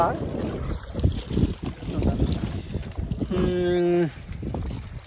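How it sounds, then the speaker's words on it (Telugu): Wind blows at a reservoir, a gusty rush with microphone buffeting under intermittent nearby talk, with a brief harmonic tone midway through. "మంచి గాలి వస్తుంది అన్నది ఇక్కడ"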